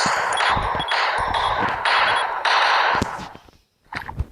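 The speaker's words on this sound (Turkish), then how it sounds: "Şu bomba var. Böyle tıklıyorsunuz patlıyor." Rapid bursts of blasts from a bomb detonating in a video game, loud and continuous for about three seconds with sharp crackling pops, then dropping briefly to near silence before a few scattered smaller bangs.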